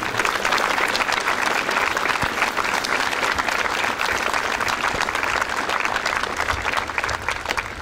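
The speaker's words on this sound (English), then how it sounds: "let's give him a round of applause too" Audience at a school academy event applauding, dense sustained clapping from a large crowd, loud and steady throughout without talk.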